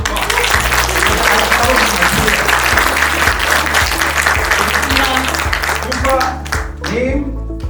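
Loud, sustained applause from an audience at a university graduation ceremony, filling the whole stretch and tapering slightly at the end, with music and voices mixed in beneath.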